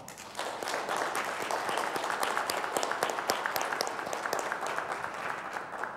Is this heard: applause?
yes